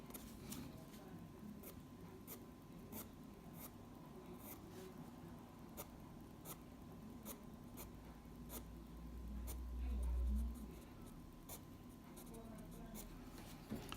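A fine grey pencil sketching eyelashes on paper, with faint quick scratchy strokes repeating steadily under a low background hum, close but quiet.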